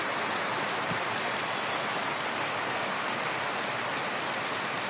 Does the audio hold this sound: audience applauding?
no